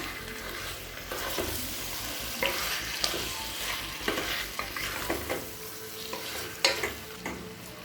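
Chicken pieces sizzle and crackle in a hot pan while a utensil stirs and scrapes intermittently, close and moderately loud, no talking.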